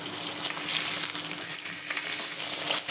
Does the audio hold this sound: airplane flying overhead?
no